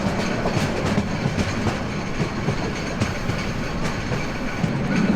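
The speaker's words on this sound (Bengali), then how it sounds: "আমাদের ট্রেন বিশাল কার নিয়ে আখাউড়া জংশনের দিকে যাচ্ছে" A train hauling a long string of cars rolls toward Akhaura Junction in Bangladesh, its steady rumble and rhythmic clickety-clack of wheels on rail joints filling the scene loudly and continuously, with no voices.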